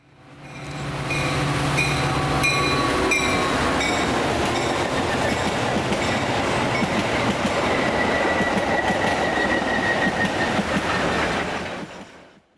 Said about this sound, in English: here we see an outbound Metro making its Hinsdale station stop. In the lead is an EMD F40 PHM-3